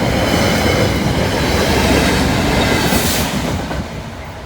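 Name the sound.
train passing a level crossing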